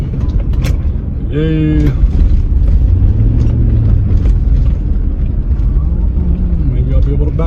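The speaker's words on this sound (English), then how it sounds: "This is my truck." A pickup truck drives along a residential street, its engine a loud, steady low rumble close by throughout, with people talking over it.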